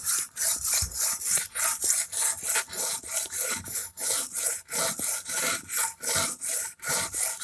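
A Henckels chef knife is drawn in steady back-and-forth strokes across a sharpening stone, about two strokes per second, each a close, loud gritty rasp with no talking.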